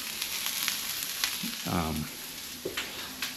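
Sausage frying in a pan for a broccoli pasta, a steady soft sizzle running throughout with a short burst of louder crackle and bubbling midway and a few light clicks.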